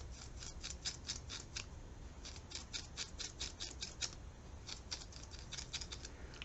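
Scissors snip repeatedly through a cheap synthetic wig, crisp close cutting strokes in quick bursts of several snips with short pauses, steady and without speech.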